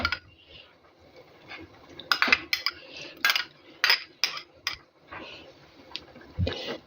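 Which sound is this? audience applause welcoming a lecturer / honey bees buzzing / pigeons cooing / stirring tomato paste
stirring tomato paste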